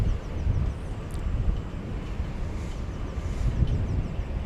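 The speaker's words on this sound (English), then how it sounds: "737-800 arriving from Punta Cana after, wow, a 4-hour and 38-minute flight" A Boeing 737-800 airliner arriving at DFW airport at night gives a steady, distant rumbling roar of jet engines, mixed with wind buffeting on the microphone.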